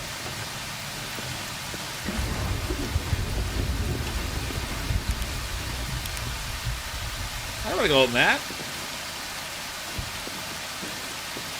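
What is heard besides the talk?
rain from the video game Prologue: Go Wayback!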